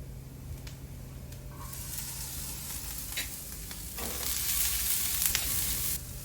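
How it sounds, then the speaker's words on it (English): Onions browning in a pan for a veggie omelette, giving a soft, steady sizzle up close with a few sharper hissing bursts and light stirring scrapes. The sizzle grows louder toward the end, and no one speaks. "Our onions are cooking nicely. It's actually starting to brown."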